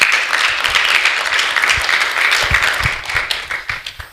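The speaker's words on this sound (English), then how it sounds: "Y'all give him a round of applause." Conference audience applauding a man in a youth boys' and men's gathering, steady dense clapping from a sizable crowd, close and loud throughout with a few sharper individual claps near the end.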